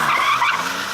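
A rear-wheel-drive BMW M3 skids hard, its tires giving a loud, close, sustained squeal for about a second, with no talking.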